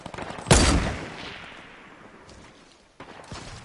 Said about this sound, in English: that guy's been shooting at me